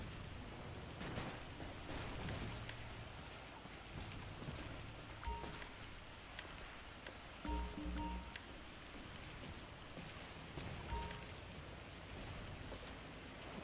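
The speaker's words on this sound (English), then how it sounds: "You like how it's raining in here, even though there's a roof?" Steady rain hisses indoors under a roof in the video game GTA 5, a soft, continuous patter with occasional low rumbles and brief tonal game sounds.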